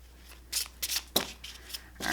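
A deck of 1889-style Lenormand cards being shuffled by hand, a few short riffling bursts close up in a quiet room, with one sharper snap in the middle.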